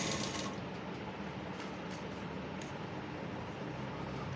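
Sewing machine stitching a strip onto a child's kurta, producing a steady, close mechanical whirr with faint rhythmic ticking throughout.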